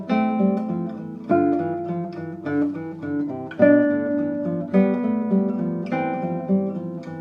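Classical guitar plays Carcassi étude No. 6 from Op. 60, a plucked melody over a bass line in phrases with clear accented downbeats, solo and close.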